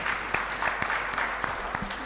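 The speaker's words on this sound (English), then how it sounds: "Another round of applause for Ambassador Macharia" A short burst of steady applause from an audience at a National Assembly induction, greeting Ambassador Macharia, with a few louder claps standing out.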